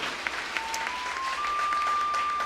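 A Sunday church congregation claps steadily, the applause swelling louder toward the end, with a faint sustained tone running underneath.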